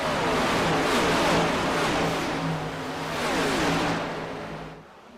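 Stock cars from a Cup Series race at a rolling-hills track in Brooklyn, Michigan roar past in a steady loud wash of engine noise, with tonal engine drones swelling and fading over about five seconds before dropping off at the end.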